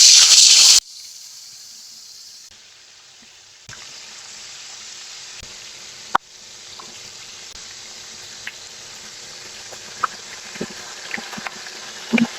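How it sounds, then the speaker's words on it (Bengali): Fish head dropped into hot oil in a home kitchen, a loud hiss at the start giving way to a lower steady sizzle with scattered pops and crackles. "তেল গরম হয়ে গেছে, মাছের মাথাটা দিয়ে দিব।"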